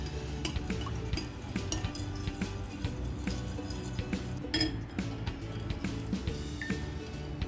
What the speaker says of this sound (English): Now mix it thoroughly.